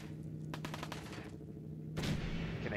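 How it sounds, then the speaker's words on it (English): Bursts of gunfire in the video game Fallout 4, a quick cluster of rapid shots followed by a louder, denser blast of fire over a steady low game hum, with no talking. "Oh, I hear more gunfire."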